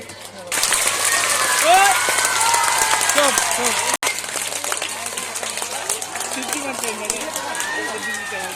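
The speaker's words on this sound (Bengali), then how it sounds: "সকলে হাততালি" Audience clapping steadily at a school farewell ceremony, a broad wash of many hands that starts abruptly and carries on throughout, with a brief break midway and bird calls audible among it.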